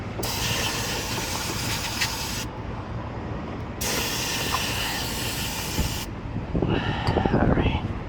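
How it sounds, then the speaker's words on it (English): Cleaner sprayed onto a dirty Ford Transit rear AC evaporator: two long, loud hissing bursts of a few seconds each separated by a pause, followed by quieter scrubbing and rustling near the end. "Just spray something there so get some of this dirt out"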